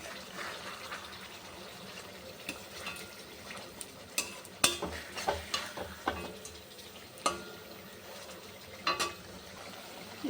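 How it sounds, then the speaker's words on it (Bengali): Hilsa fish frying in spice paste crackles softly in the pan while a utensil turns the pieces, giving scattered sharp scrapes and clinks over the low sizzle, with no talking. "এবার একটু মাছগুলো একটু উল্টিয়ে দিই।"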